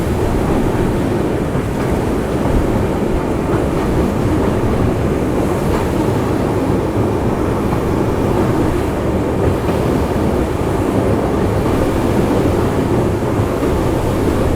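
Shraddha Sethu superfast express train crossing the New Pamban bridge over the sea, a loud continuous rumble and roar of the moving train mixed with wind buffeting, steady throughout.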